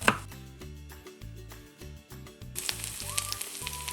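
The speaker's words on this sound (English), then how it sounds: "I chop my garlic pretty small." A knife chops garlic finely on a board in a run of regular, crisp, close taps. Busier clatter and a faint sizzle come in near the end, with no speech.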